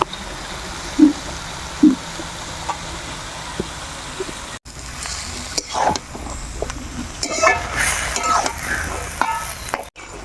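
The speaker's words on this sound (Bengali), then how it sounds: "আমার সবজিগুলো ভালো মতো কষানো হয়ে গেছে" Greens and vegetables with salt and green chillies being stirred in a pan for a simple vegetarian curry, with soft scraping strokes and a faint sizzle, quiet and intermittent.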